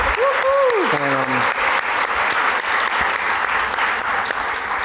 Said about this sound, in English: I think we should give Jonah another round of applause.